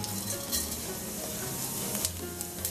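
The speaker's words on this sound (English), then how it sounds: "I'm putting little olive oil, not too much, just 1 or 2 spoon. I'm putting little cumin seeds." Cumin seeds sizzling in a little olive oil, giving a soft, even hiss with a few light stirring clicks and no voices.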